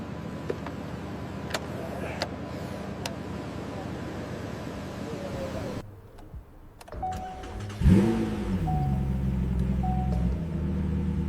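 A McLaren W1 hybrid supercar engine idles with a steady rumble, goes briefly quiet, then fires up and revs hard with rising pitch before settling into a loud, throaty drone.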